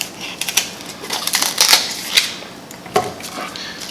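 Kitchen knife cutting an onion on a board, a series of sharp close chopping taps in an irregular rhythm, a few louder strikes among lighter ones.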